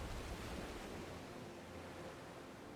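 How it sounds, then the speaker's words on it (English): Ocean waves wash softly in the open sea of the Black Desert Online game world, a faint, even surf hiss with a light wind-like rush and no voices. "I am out in the middle of the ocean."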